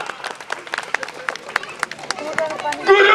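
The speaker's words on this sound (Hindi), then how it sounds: "तालियां हो जाए इनके लिए" Audience applause for a stage magician, scattered claps from a crowd that start sparse and build into a denser, livelier burst at the end, with a voice speaking over it.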